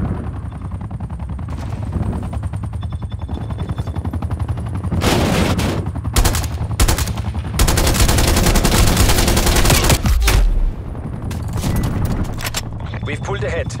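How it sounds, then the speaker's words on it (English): Sustained automatic sentry turret fire in Call of Duty Cold War multiplayer, loud dense bursts and rapid rattling volleys building through the middle, with battlefield rumble and a radio-style voice underneath. "Multiple hostile sentry turrets working your AO."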